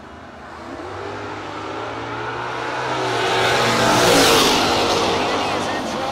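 Russ Benish's Camaro race car accelerating hard in a no-box drag race, a loud engine roar building to a peak around the middle and holding strong, with a crowd and announcer-type noise mixed in.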